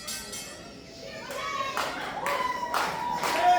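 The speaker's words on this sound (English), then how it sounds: "Haley getting the crowd behind her with these claps" Crowd at a Benchmark Pro Wrestling event clapping along in rhythm for a wrestler as the bell rings, bursts of claps building in loudness amid arena murmur.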